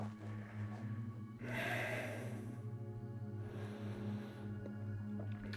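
Deep yoga breathing, with one long, full inhalation rising clearly over a steady low room hum, followed by a softer, fainter breath, close and quiet with no talking.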